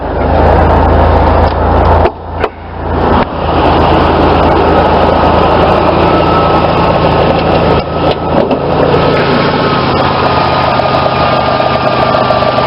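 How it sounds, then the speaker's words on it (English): A 1988 GMC truck engine turns over, catches and settles into a smooth, steady idle, loud and close under an open hood, with a brief dip in the roar early on and no talking. "As you can see, the engine runs really smooth."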